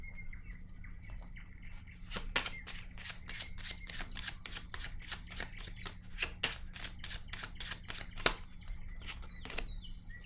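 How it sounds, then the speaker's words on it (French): Tarot cards being shuffled and drawn: a rapid run of crisp, regularly spaced card flicks, close and distinct over a low steady background hum. "Je vais piger une autre carte ici."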